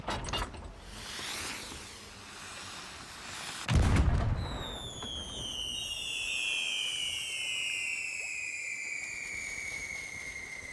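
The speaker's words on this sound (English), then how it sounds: "Everybody likes the fireworks in this game." Fireworks in the pirate video game Sea of Thieves: a sharp low burst, then several long whistling tones that slowly fall in pitch over a steady background hiss.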